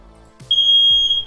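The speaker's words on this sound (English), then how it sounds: "I know that they're doing a fire alarm test here." A building fire alarm sounds during a test, a loud piercing electronic tone close by that holds steady after a couple of low thumps, with no talking.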